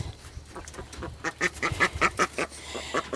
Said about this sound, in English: we have here quacking is a captive duck